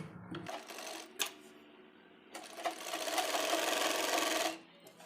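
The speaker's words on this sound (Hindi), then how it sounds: "यहाँ पर सिलाई कर देंगे दोनों साइड में" A sewing machine stitches a baby frock in short bursts: a brief run, a pause, then a longer steady whirring stitch before stopping, close and fairly quiet.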